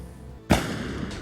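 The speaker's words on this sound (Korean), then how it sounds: "갑자기 울리는 총성" A single sudden gunshot in a movie scene cracks out loud and sharp after a quiet moment, then a short ringing tail fades behind it.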